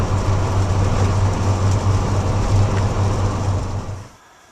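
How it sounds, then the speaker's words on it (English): A Lotus Esprit turbo engine roars in a loud, steady, rumbling drone with a low hum beneath, then cuts off abruptly near the end. "when you spool up the turbo"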